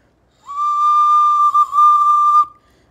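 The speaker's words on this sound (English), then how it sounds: "The recorder requires so little air" A recorder plays one gentle, steady note held for about two seconds, soft and pure with a slight waver midway, alone in quiet surroundings.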